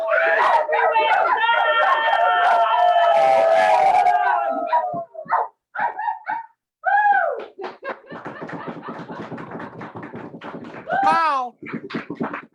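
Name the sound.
dogs barking in a toy theater performance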